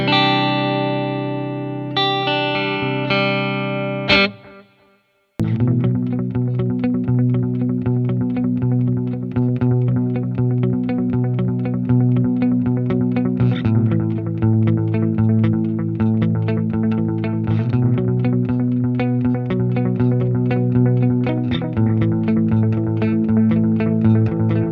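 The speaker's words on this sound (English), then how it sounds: "Let's get this analog delay and put it right here." An electric guitar runs through an amp simulator with an analog delay, a sustained chord ringing out and cutting off, then a steady rhythmic riff with repeating echoes filling the rest of the passage, loud and continuous.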